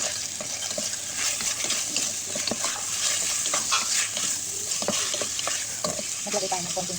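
Chicken and lemongrass stirred in a pot for Filipino arroz caldo, with a continuous close sizzle and frequent clattering scrapes of the spoon throughout.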